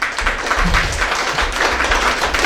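An audience at a Tamil spiritual gathering claps steadily, a close, continuous patter of applause that holds at an even level throughout.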